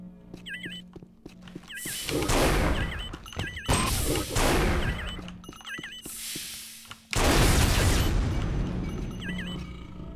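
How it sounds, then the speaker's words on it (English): Flak cannon blasts in the Unreal video game, modded, several heavy booming bursts with gaps between them, the last one loudest and sustained, near and forceful. "That's a flak cannon."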